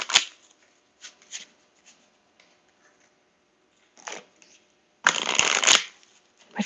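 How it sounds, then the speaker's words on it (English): Cards are shuffled in a few short riffles, then one longer, louder riffle near the end, close up with quiet pauses between. "So let me just shuffle our Romance deck."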